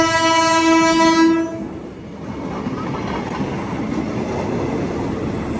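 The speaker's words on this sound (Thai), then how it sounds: "รถไฟมา" A train passes beside a Ramadan Muslim market along a railway in Thailand. A loud, sustained horn blast comes first, then a steady, close rumble of the rolling train continues.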